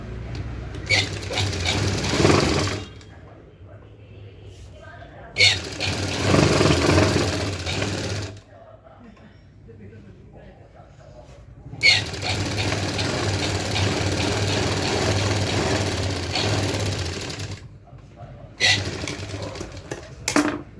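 A sewing machine stitches the edge of a designer blouse in several separate runs. Each run is a close, chattering mechanical rattle lasting a few seconds, with quiet gaps between them.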